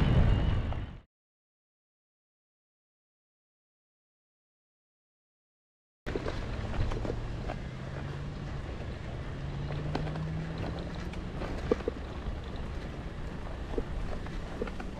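Wind blows outdoors along a trail, rumbling and buffeting against the microphone as a steady low roar that starts after a short stretch of silence.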